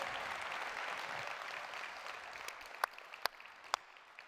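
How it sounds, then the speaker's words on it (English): Audience applause at the Tableau Conference 2022 keynote, dense clapping that fades gradually into scattered individual claps near the end. "Give yourselves a huge round of applause."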